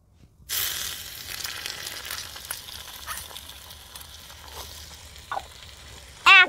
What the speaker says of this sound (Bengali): এখন একটু নাড়িয়ে চাড়িয়ে গাজরটাকে ভেজে নেব